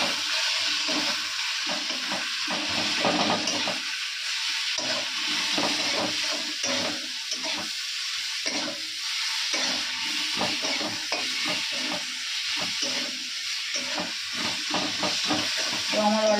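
Spices for a mutton curry fry in a pan under steady stirring, with a loud, continuous hissing sizzle cut by regular rhythmic scraping strokes throughout.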